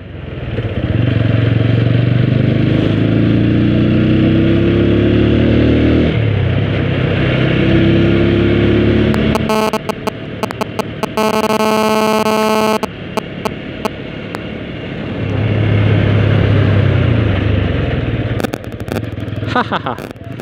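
A vehicle passes close by on a road, with a loud sustained engine drone that swells and shifts in pitch, followed by a burst of crackling wind noise and a second rising engine pass.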